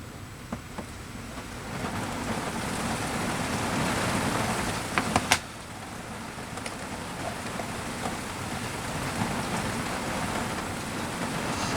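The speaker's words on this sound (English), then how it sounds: "Now it's raining again." Steady rain falling, a soft continuous hiss with a few sharper drops and knocks near the middle, no voices.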